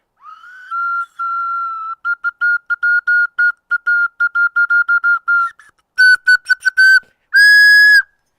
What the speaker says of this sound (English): I got a Scarlet Ocarina.